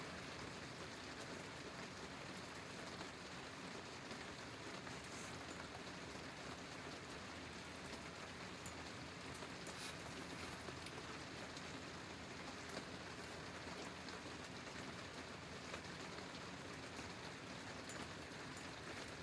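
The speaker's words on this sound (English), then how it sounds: "So we're on day 4 of rain here" Steady rain falling outdoors, a continuous even hiss of drops hitting surfaces, faint and unbroken with no voices.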